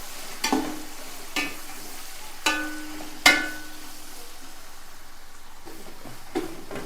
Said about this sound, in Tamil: இந்த ஆனியன் நல்லா ஃபுல்லாக வதங்கி நல்லா ஒரு ரெட்டிஷாக வர வரைக்கும் இதை ஃபுல்லாக வதக்கிக்குவோம்.